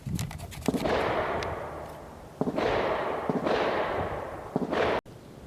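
An 1860 Colt Army revolver fires a string of loud close shots outdoors at a range, each sharp crack trailing into a long rumbling echo, with no talking.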